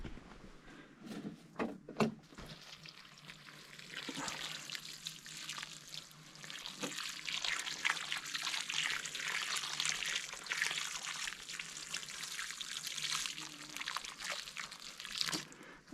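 Water pours and trickles steadily to soak freshly planted bedding plants in a garden, a soft continuous splashing with a few sharper knocks early on.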